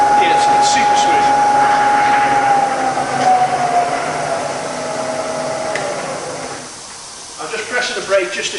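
A Bridgeport milling machine with a 48-inch table runs its spindle at 2000 rpm, producing a smooth steady whine and hum that fades down near the end, close up in a workshop.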